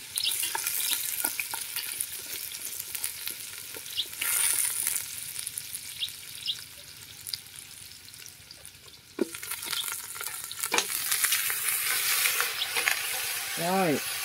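Oil sizzling and crackling in a pan as aromatics are fried for goat hotpot, a steady frying hiss with occasional stirring clatter, close by and fairly loud throughout.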